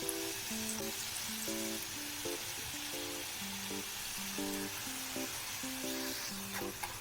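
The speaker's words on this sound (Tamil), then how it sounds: "இங்கே பாருங்க ஃப்ரெண்ட்ஸ், எவ்வளோ கிறிஸ்பியாக ஃப்ரை ஆகுது பாருங்க" Potato french fries deep-fry in hot oil, giving a steady crackling sizzle throughout, partly masked by background music playing over it.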